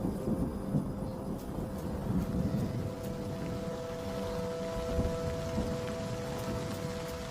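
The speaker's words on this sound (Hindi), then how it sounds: "बारिश के मौसम में गरज भरे तूफान लगभग रोज ही आते रहते हैं" Steady, heavy rain falls in the rainy season on the open African plains where wildebeest migrate, a dense, continuous hiss with soft pattering, over a low rumble that hints at distant thunder, with no voices.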